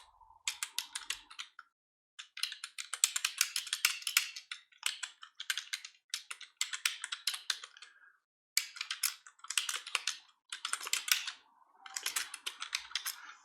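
Close, crisp typing on a computer keyboard comes in quick bursts of rapid clicks separated by short pauses, with no voices.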